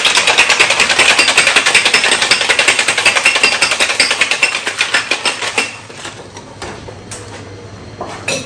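A cocktail shaker holding grapefruit juice, lime juice and other ingredients for a Camarita is shaken hard. The fast, loud, rhythmic rattling lasts about five seconds, then slows and fades into a few softer knocks.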